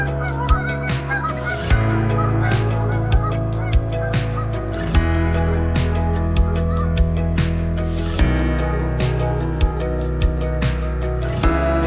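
A flock of swans calls on a cold, crisp morning in the wild, with loud overlapping honking and bugling voices close by, continuous for about twelve seconds.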